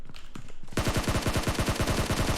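Rapid automatic gunfire in PUBG Mobile, a loud, steady burst of evenly spaced shots that starts abruptly after a short stretch of quieter game ambience and continues to the end.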